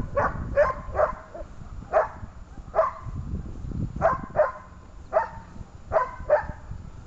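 A giant schnauzer barks during protection training, a series of about ten sharp, loud barks in an irregular rhythm with short pauses between them, close by over low background noise.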